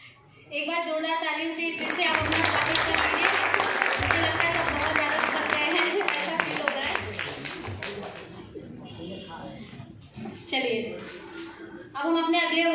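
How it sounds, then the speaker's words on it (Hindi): An audience at a yoga award ceremony in Kanpur bursts into loud, sustained applause lasting several seconds, then tapers off, with someone speaking over the microphone before and after the clapping. "एक बार जोरदार तालियों से फिर से आप अपना स्वागत करेंगे"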